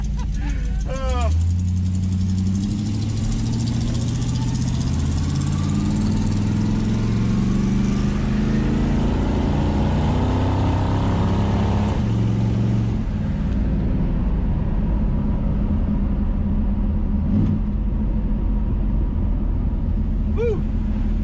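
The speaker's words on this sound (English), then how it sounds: "I love this exhaust." A 1966 Dodge Dart GT's exhaust gives a steady, deep engine rumble throughout, loud and close, with a brief throaty swell partway through and some talking mixed in.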